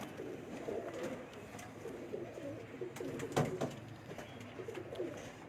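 Pigeons coo softly in low, rolling calls at a pigeon keeper's loft, with light clicks and rustling around them and no talk.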